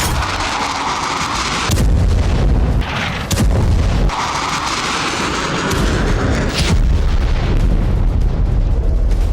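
Bombs explode in Syria in news footage, heavy continuous booming and rumbling with several sharp blasts standing out, loud and dense throughout.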